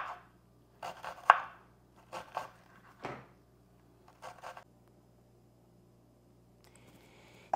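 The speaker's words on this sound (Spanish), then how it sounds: "La cebollita la vamos a estar partiendo así, finamente, para que sea más fácil para curtirse" Knife finely chopping onion on a cutting board, a handful of separate dull taps in short irregular bursts with quiet pauses between, close and faint, no talking.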